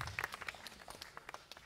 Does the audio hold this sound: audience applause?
yes